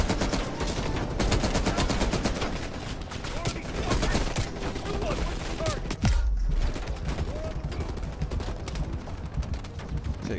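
Rapid, dense gunfire rattles almost nonstop through a chaotic video game firefight in Operation Chaos, with bursts of shots coming close and loud, a brief heavy thump midway, and a voice murmuring faintly underneath.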